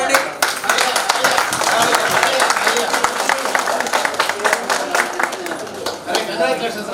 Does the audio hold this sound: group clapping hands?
yes